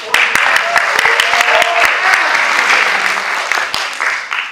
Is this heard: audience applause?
yes